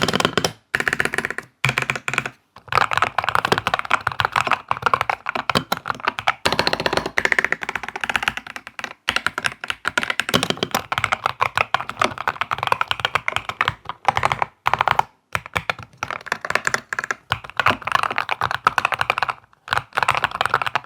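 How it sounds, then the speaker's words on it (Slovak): Rapid typing on a Redragon NOVA K709 HE keyboard with magnetic switches, dense close-up key clacks in bursts with short pauses, no voices. "môžeme ísť pozrieť, ako znie táto klávesnica"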